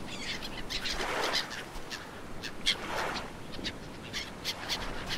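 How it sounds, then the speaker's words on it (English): Birds call in the tropical island setting of the survival game Stranded Deep, a few scattered chirps and raspy caws repeating roughly every second or so over a soft ambient background, moderately quiet, no speech. "It's birds."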